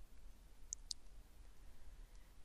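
Two quick, faint computer mouse clicks in close succession against a quiet room background.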